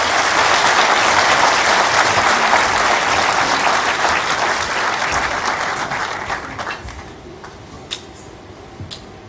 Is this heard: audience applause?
yes